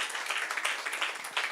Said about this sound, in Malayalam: ഐ പ്ലസ് ഒരു നല്ല ക്ലാപ്പ് കൊടുത്താട്ടെ നിങ്ങൾ